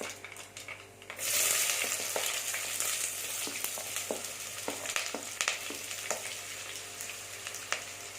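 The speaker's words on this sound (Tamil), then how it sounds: "கடுகு நல்லா பொறிஞ்சிட்டு இருக்கு ஒரு பெரிய வெங்காயம் பொடி பொடியாக கட் பண்ணி வச்சுருக்கேன் இதை சேர்த்துக்கலாம்" Mustard seeds sputter in hot oil and chopped onion goes into the pan, setting off a sudden loud sizzle about a second in that keeps crackling and popping steadily, with occasional stirring clicks and no talk.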